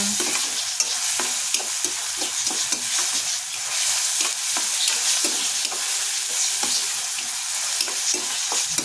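Onion sizzles steadily in a hot pan for egg bhurji, with a continuous frying hiss and frequent soft stirring scrapes throughout.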